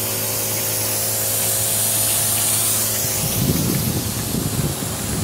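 Compressed air blasting through the fifth zone of an inground sprinkler system during winterizing, a steady loud hiss and spray that roughens into a sputtering, gurgling rush partway through, with no talk.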